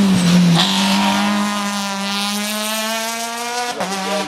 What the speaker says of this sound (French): Le numéro 47 se présente au départ avec la Peugeot 207 de couleur bleue.